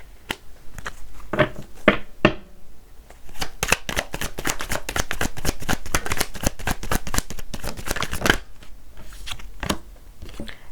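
A deck of playing cards being shuffled and riffled, with a dense run of crisp, rapid flicks in the middle and slower handling before and after; close, with no talk.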